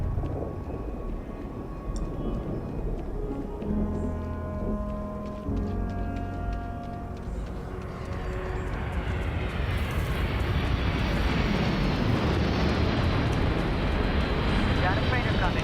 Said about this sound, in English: Got a freighter coming.